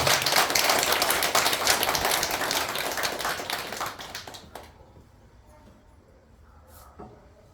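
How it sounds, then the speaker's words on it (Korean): Applause from worshippers at a Buddhist Dharma service in a temple, fairly close clapping that fades out midway and leaves near quiet with a few soft knocks and thumps. "우리 큰 박수 한번 부탁드립니다"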